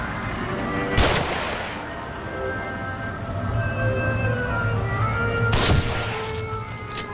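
Gunfire in The Evil Within video game: two sharp, loud shots about four and a half seconds apart, each followed by a short echoing tail over a droning background.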